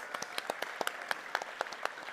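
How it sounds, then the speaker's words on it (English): Scattered audience applause at a mental health conference opening session, fairly quiet and thin, with individual claps distinct in an uneven patter. "A round of applause, please."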